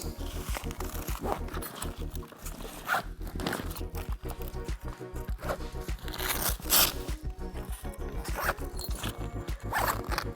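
Repeated zipper pulls on a 16 ft dual-lane inflatable water slide, quick ripping zips back and forth, close by, with rustling fabric and some faint talk in between.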